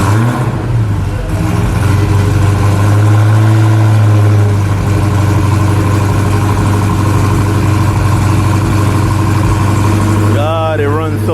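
A 1000-horsepower car engine idles loudly and steadily up close with a deep, constant low rumble, then a voice briefly speaks over it near the end.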